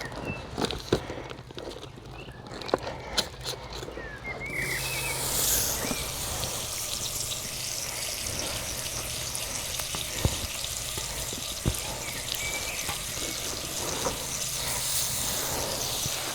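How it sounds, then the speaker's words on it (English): A few clicks and knocks, then a steady sizzle of potatoes frying in hot oil in a pan over a campfire, close by and continuous with occasional pops. "first I'm gonna start frying the potatoes"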